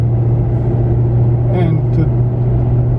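Maserati climbing a curvy mountain road, heard as a steady low engine and road rumble from inside the cabin, continuous and fairly loud throughout.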